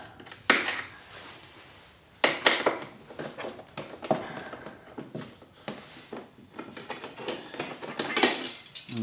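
A star-bit wrench works the four screws of a scooter's T-Max plate during a 16,000 service, making close metallic clicks, ratcheting turns and sharp clinks in irregular bursts with pauses between.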